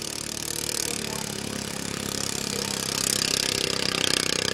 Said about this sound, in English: The 97X seems to be the stronger tractor at the moment.